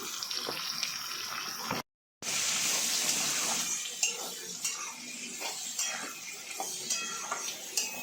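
Sliced onions and chilies with salt are stirred in a pan for vegetable pulao, a spoon scraping and clinking against the metal in steady irregular strokes over a soft sizzle, after a brief silent gap.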